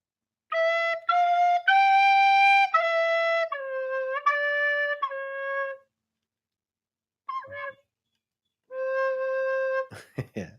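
Short melody on a finger-hole wind instrument, a run of clear sustained whistle-like notes stepping up and down, a brief breathy blip, then one more held note and a sharp click, played solo and close.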